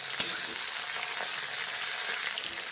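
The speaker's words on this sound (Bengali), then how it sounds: "গরম তেলে, সর্ষের তেলে বেগুনগুলো বেশ ভালো করে ভেজে নিচ্ছি।" Eggplant pieces frying in hot mustard oil give a steady, close crackling sizzle with a few sharp pops and a faint clink or stir, no voices present.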